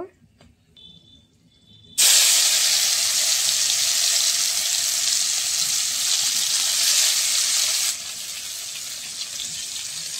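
Ground bottle gourd leaf paste drops into a hot pan and bursts into a loud, sustained sizzle and hiss. The frying starts abruptly after a quiet moment and eases slightly toward the end.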